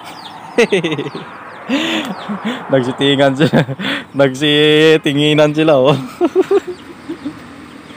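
A rooster clucks and calls in a few short bursts just after a fight with a duck, close and loud, with someone talking over and between the calls.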